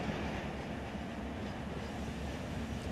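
Train wheel trucks roll by in the Run 8 Train Simulator video game, producing a continuous low rumble of railcars with faint rhythmic clatter, steady and unbroken.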